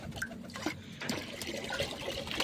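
Faint trickle and splash of medicated water being poured for pigeons, quiet and continuous with light sloshing.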